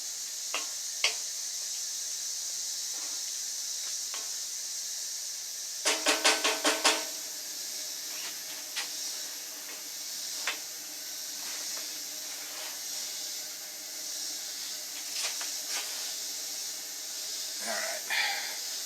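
Celery cooks down in a skillet with a steady bright hiss and sizzle, moderately close, broken by a quick cluster of clicks and a few soft knocks of utensils.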